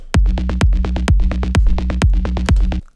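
A Melter bassline pumps beneath a Kashmir signature kick drum in a future rave beat, the kick striking six times in a steady rhythm with the fat, buzzing bass filling each gap, loud and close with no talking.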